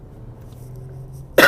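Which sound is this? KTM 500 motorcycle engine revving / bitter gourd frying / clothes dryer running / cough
cough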